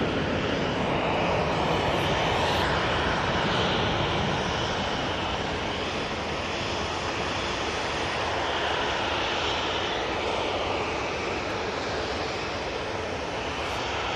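A jet airliner climbs away from Manchester Airport, a sustained, fairly loud engine roar that stays broad and even for the whole stretch, swelling slightly at the start, with no one talking.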